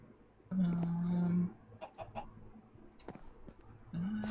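Minecraft chicken clucking, a few clear close clucks in short bursts separated by quiet pauses, with soft game sounds between.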